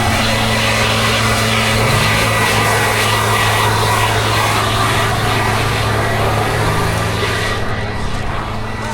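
A large blower drying a wet race track in Rustavi, giving a loud, continuous roaring rush of air over a steady low engine hum, unbroken for the whole stretch and easing slightly at the end.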